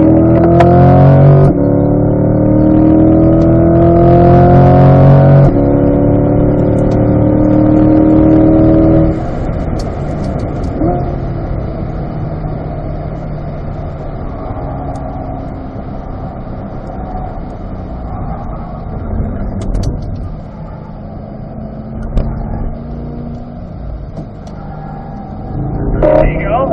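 A C8 Corvette laps Spring Mountain Raceway with other cars on track, its loud engine droning and shifting pitch as it accelerates and eases off, under steady talk from an instructor in the car.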